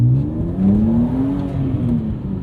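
A BMW E46 M3's S54 inline-six revs loudly and close by, its pitch rising and falling smoothly through a short burst of throttle.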